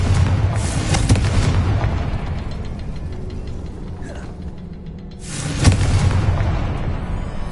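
The Confringo fire spell explodes in the Hogwarts Legacy video game. Two heavy, booming blasts are heard, one at the start and one a few seconds later, each with a rumbling tail and a quieter mechanical stretch between them.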